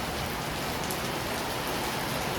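Steady rain falling and running down a window, a dense, even hiss of drops filling the whole stretch, close and constant without talk.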